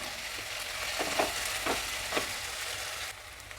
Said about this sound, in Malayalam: നന്നായി ഒന്ന് ഇളക്കി സവാള ഒരു ബ്രൗൺ നിറാവണം വരെ ഒന്ന് വെയിറ്റ് ചെയ്യാം നമുക്ക്